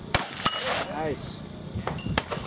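Rifle bullets from an AR-15 strike a steel target plate at an outdoor range, giving two sharp metallic clangs early on, each ringing briefly, followed by fainter distant impacts over steady background noise.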